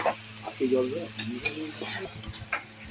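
Mung dal with fish heads being sautéed in a pan, quiet close scraping and stirring with a light sizzle and faint clinks of a utensil against the pan, a voice murmuring briefly underneath.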